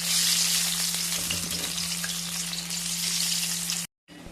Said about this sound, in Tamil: ஒன்று ஒன்றா போட்டு பொரிச்சிக்கலாம்.